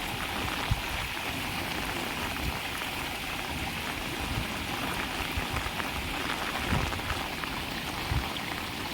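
Steady rain falls during flooding in Chotila taluka near the swollen Rajpara river, an even wash of drops hissing on surfaces at moderate level with no speech.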